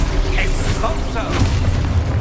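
Expulso blast spell from Hogwarts Legacy, a booming game explosion that rolls through the whole short moment as one continuous heavy burst with low rumble, loud and close.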